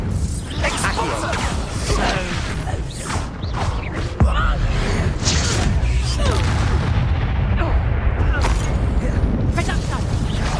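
A dense, loud stretch of Expulso spell explosions in the video game Hogwarts Legacy, with repeated booming blasts, whooshes and mechanical creaks layered over continuous battle noise.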